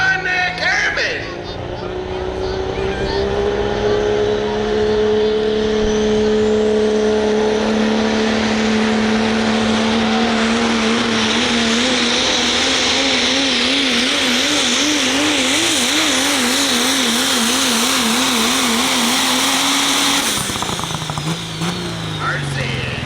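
A super stock diesel 4x4 pickup truck roars down the drag strip, its loud engine note climbing steadily in pitch for about twenty seconds before cutting off, with crowd babble faintly underneath.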